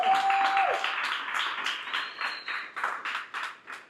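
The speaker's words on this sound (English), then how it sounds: "So give yourself a round of applause." A crowd at a pre-budget consultation meeting in Port-of-Spain claps in steady applause, fairly loud and dense, tapering off in scattered claps toward the end.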